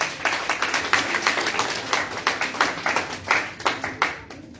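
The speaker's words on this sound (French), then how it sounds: "Il y a l'autre applaudissement encore, l'église." A church congregation applauds during a worship service, with dense, steady clapping that sounds close and fairly loud and fades slightly toward the end.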